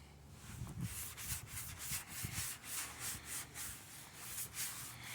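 Rhythmic back-and-forth scraping of a sanding block on the body panel of a 1931 Ford Model A hot rod, repeating strokes at an even pace, close and fairly quiet.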